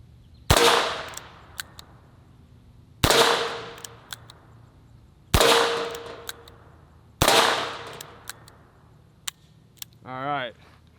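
Four sharp, loud gunshots from a revolver firing 100-year-old .22 ammunition ring out at spaced intervals, each with a short decaying echo, followed by small metallic clicks and a brief spoken word at the end.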